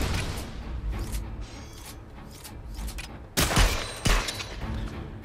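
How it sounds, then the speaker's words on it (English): Sniper rifle shots in a PlayStation VR shooter game, two sharp loud cracks about a second apart standing out over a busy, noisy game background. "The sniper rifle is awesome."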